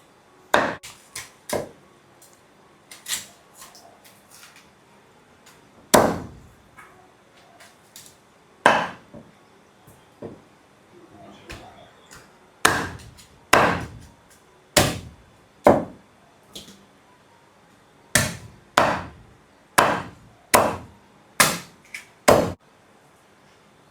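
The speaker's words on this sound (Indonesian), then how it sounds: "Di sini Mama lagi potong-potong ayam yang sudah direbus." Boiled chicken is chopped with sharp, loud knife strikes on a cutting board, landing in irregular clusters and then a quicker run of regular chops near the end, with quiet gaps between.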